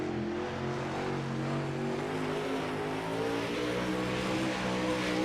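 A dirt super late model race car, a Star Race Cars AVR machine, revs on the track at Lernerville with a steady, rising engine howl, loud and sustained, other engine noise behind it and no talk.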